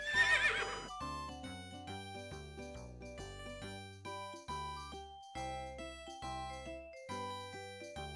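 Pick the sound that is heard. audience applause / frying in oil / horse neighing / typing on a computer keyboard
horse neighing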